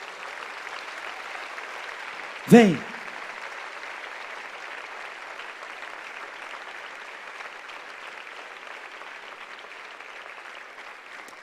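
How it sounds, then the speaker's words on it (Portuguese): Church congregation at a Christian service applauding steadily throughout, a broad even wash of clapping with one sharp loud knock early on and a single brief spoken word. "Vamos aplaudir esse pessoal que está vindo aqui."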